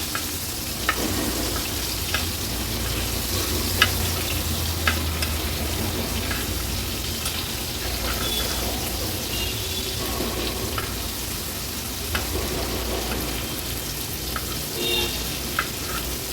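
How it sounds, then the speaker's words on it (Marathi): Bombil fish coated in rava and rice flour shallow-frying in a pan, a dense continuous close sizzle with occasional soft clicks and scrapes as pieces are turned. "आता एक एक करून हे बोंबील आपण पलटून घेणार आहोत"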